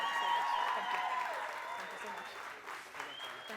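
Audience applauding the judges at a barista championship final: faint, steady clapping from a crowd that tapers off over a few seconds, with voices talking through it.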